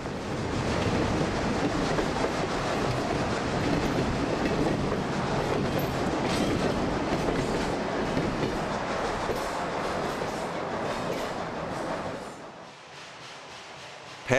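A steam train climbs a 2.5% grade on the former Cumberland and Pennsylvania line, with a steady, loud rumble and rhythmic wheel clatter filling the scene before easing slightly near the end.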